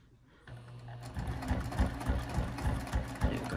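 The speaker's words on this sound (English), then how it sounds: "start stitching, and then back stitch" A sewing machine stitches and back stitches on a small zipper pouch, starting with a low motor hum, then a rhythmic chugging run of needle strokes close by and moderately loud.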